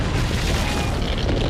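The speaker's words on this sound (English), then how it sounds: "The fault's on the move again." Earthquake rumble from a moving fault in a disaster film, a dense, loud, continuous low roar with crackling debris-like texture throughout.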